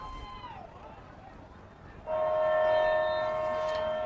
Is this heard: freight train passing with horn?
yes